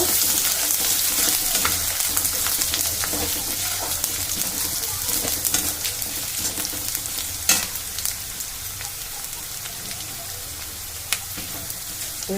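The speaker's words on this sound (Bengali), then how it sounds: "এক চামচ আদা রসুন কুচুনো দিয়ে দিলাম দিয়ে একটু ভাজা করে নেব" Steady, loud sizzling of chopped ginger and garlic frying in hot oil in a pan, with occasional sharp crackles and scrapes of a utensil stirring.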